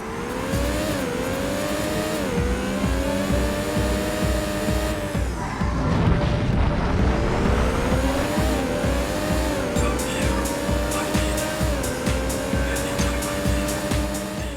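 A Porsche engine droning and revving in a racing video game, steady high-pitched whine climbing and dropping through gear changes, with tire squeal and a dip midway where the car brakes and accelerates again, loud and continuous with no talk.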